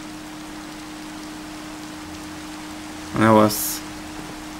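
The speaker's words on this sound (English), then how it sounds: "it's raining in from the hole in the" Rain patters steadily inside a Minecraft survival world, falling through a hole into a tower as an even hiss, with a short spoken word cutting in near the end.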